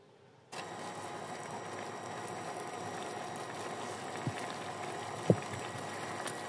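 Water heating in a cooking pot for vegetable pulao after raisins were fried, giving a steady low hiss and bubbling rumble with a couple of faint clinks, no talk.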